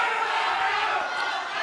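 Sustained, dense crowd applause from a live audience at a public televised gubernatorial debate, a steady broadband roar of clapping lasting throughout with no pauses.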